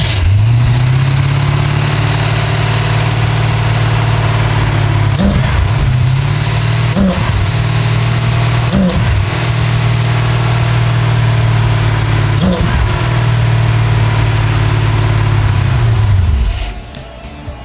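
A car engine on a vehicle being checked for a clogged fuel filter runs loud and steady, with several quick revs rising and falling before it shuts off at the end.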